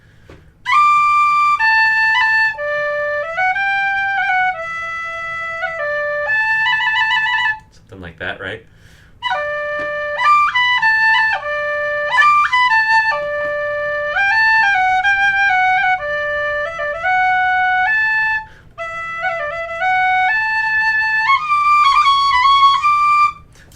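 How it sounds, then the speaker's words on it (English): A penny whistle plays a bright, reedless melody in several phrases with short pauses, loud and close; someone speaks briefly in one gap. "that's the penny whistle"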